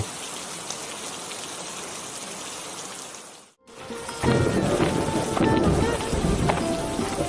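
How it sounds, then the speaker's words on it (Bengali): Rain falls steadily in a cartoon scene, a dense even patter that briefly drops out, then returns heavier with splashy drops on surfaces. "আরে ও টুম্পা, তুই বৃষ্টিতে ভিজে কোথায় গিয়েছিলি মা?"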